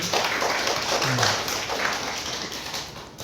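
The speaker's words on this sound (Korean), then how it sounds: "박수 한번 주세요" Students applaud together in a university lecture on startups and management, a steady wash of clapping filling the room for about three seconds, with a brief voice heard partway through.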